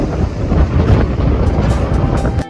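Strong wind on the Greek island of Rhodes buffets the microphone, a loud, continuous low rumble with gusty swells that drops away abruptly at the end.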